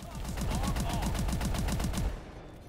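Rapid automatic gunfire in Call of Duty Advanced Warfare zombies on the Carrier map: a steady, evenly spaced burst of about twenty loud shots lasting two seconds, then stopping abruptly.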